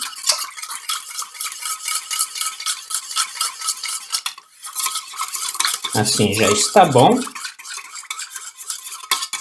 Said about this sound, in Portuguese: E agora misturar bem. Agora fazer com que o amido se dissolva bem.